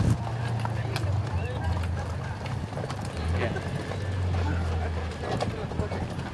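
Horse hooves clip-clop steadily during the Cabalgata Mazatlán horseback parade, a continuous patter under people talking and crowd noise.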